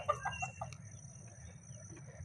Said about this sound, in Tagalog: Ayan na yung manok.